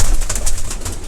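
Breeding pigeons coo in their loft, with soft overlapping throaty calls that sound close and continuous against a dense background hum.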